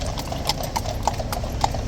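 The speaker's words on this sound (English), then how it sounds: "2 more police horses." Police horses walking at Horse Guards, hooves clip-clopping in a steady rhythm on hard ground, close and clear over outdoor background noise.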